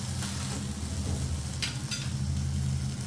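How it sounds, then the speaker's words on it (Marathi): Uttapam sizzling on a hot pan as it roasts on both sides, with a steady close frying crackle and a few brief scraping sounds, no voices. "दोन्ही साईडने आपल्याला छान असं शिजून घ्यायचे भाजून घ्यायचे"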